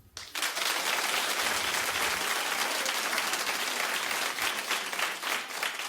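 A television talk-show studio audience claps in loud, steady applause that runs without a break for about six seconds, with no speech over it.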